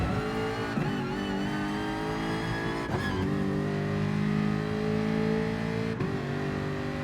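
A Gr.4 race car engine in the video game GT Sport revs loudly and continuously, its pitch rising and dropping through several gear shifts with brief dips, heard alone with no talk.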